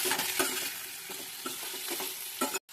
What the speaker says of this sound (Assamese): ভালদৰে মই ভাজি লওঁ